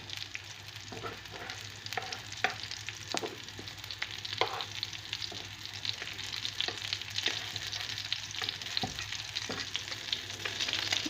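Steady oily sizzling and crackling of waffles frying in oil in a pan over medium-high heat, continuous and fairly loud with scattered pops, no voices.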